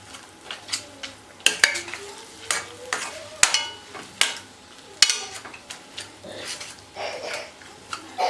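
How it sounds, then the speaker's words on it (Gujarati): Sweet potato sheera with ghee and sugar is stirred in a pan over medium heat: repeated scraping strokes and soft clinks of a spoon against metal, with a faint sizzle underneath, close and fairly loud, no talking. "હવે આપણે શેકીશું. એકદમ મીડિયમ આંચે શેકવાના છે."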